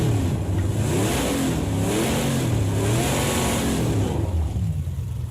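Racing car engine in the Project Cars 2 video game, loud and continuous, revving up and down in sweeping waves with gear-change dips and a dense mechanical roar.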